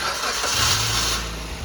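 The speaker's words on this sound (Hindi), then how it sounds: "अभी गाड़ी को स्टार्ट करते हैं और फिर मैं आपको इसकी साउंड।" A Maruti Baleno car engine cold starting in winter, with the starter cranking briefly before the engine catches and settles into a steady low idle, close and loud.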